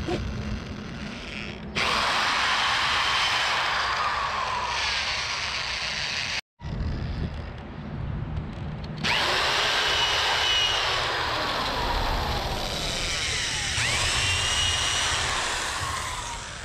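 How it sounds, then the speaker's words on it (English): Power drill boring out the antenna mount on a Honda Civic EK, a loud steady whine in two long bursts separated by a brief pause, close up with no talking. "Drill that guy right out."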